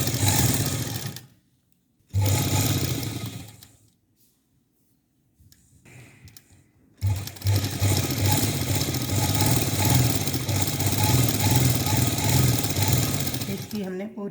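A sewing machine stitches satin with organdy laid over it, giving a steady close motor whirr for several seconds after short bursts separated by pauses.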